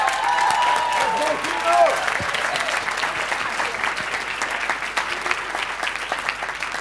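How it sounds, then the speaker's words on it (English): A keynote audience breaks into loud, sustained applause for a volunteer, dense clapping from a large crowd that swells early and carries on steadily, with a voice speaking briefly over the start. "give him a round of applause"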